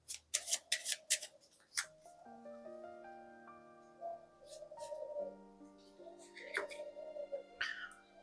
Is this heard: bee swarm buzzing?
no